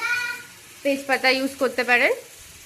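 Bean pitha batter sizzling in hot oil, a steady close frying hiss running beneath a short stretch of talking.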